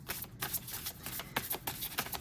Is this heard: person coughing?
no